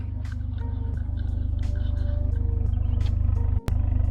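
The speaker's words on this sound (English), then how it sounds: "You guys can hear that exhaust. It sounds pretty good." A car's exhaust rumbling at idle, a loud, steady, deep pulsing burble close by with a brief dropout near the end.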